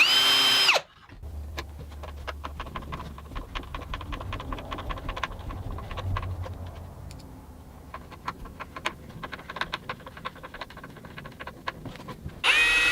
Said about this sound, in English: now I can drill the holes and finish mounting the hinge on the other end